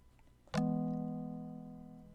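A music box preset on the DX10 synth in FL Studio plays a single chord after a brief quiet lead-in, striking sharply and then ringing out with a slow, smooth decay, heard alone.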